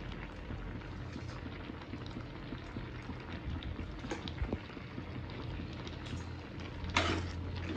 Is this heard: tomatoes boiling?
yes